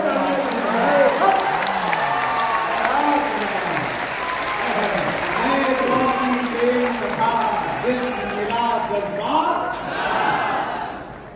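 Audience at a Kumar Vishwas poetry recital in Patna, Bihar, applauding loudly and steadily for the full stretch, with raised voices and calls mixed into the crowd noise.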